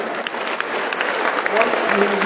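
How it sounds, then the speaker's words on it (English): A seated audience at a university academic staff orientation claps loudly and continuously, the applause steady and dense with a hint of crowd murmur underneath. "Applause the louder, please."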